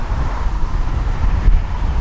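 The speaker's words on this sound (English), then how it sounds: "It's pretty windy today" Strong wind blowing outdoors on a day of landscape photography in Norway, a loud continuous low rumble buffeting the microphone for the whole two seconds, with no speech.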